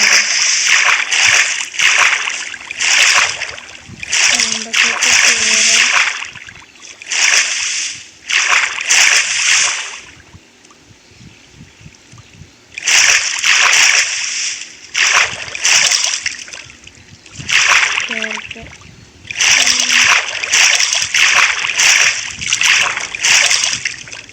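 In a hardcore Minecraft survival game, water splashes and sloshes in repeated bursts of watery noise, each lasting a second or two, separated by short quiet gaps.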